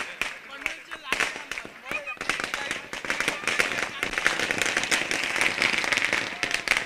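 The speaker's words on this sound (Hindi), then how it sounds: "प्रशांत दादा ठाकुर साहब का स्वागत किया जा रहा है फटाकों की आतिशबाजी के साथ" Firecrackers burst in rapid, irregular strings at a cricket match in Panvel, sharp close cracks that grow denser and louder as they go, while an announcer talks over them.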